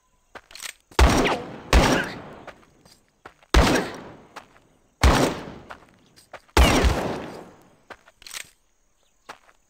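Gunfire in the video game Guns at Dawn: five or six loud, sharp shots at irregular intervals, each with a decaying tail, plus faint clicks between them.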